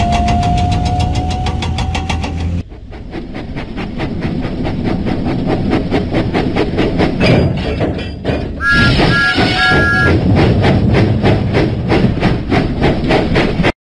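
A steam engine train in a Thomas & Friends video game chuffs away in a steady, loud, rhythmic beat, with brief bright chime-like tones joining partway through.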